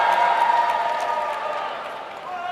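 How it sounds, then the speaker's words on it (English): A large audience at a George Zalucki training seminar in Rome in 2015 cheers and applauds with loud, dense energy that slowly tapers, voices whooping within the clapping. "What a crazy crowd, huh?"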